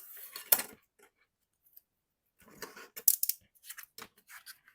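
Scissors snip through paper for a handmade mini album, a few sharp close cuts separated by short pauses, the later ones coming in a quick cluster.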